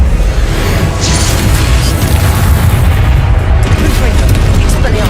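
Confringo blasting spell explosions going off in Hogwarts Legacy, heard as a dense, continuous rumble of booms and bursts with a loud, sustained blast texture throughout.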